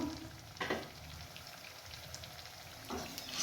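Urad dal vada deep-frying in hot oil makes a soft, steady sizzle and crackle throughout, with a couple of brief louder stirring bursts near the start and end.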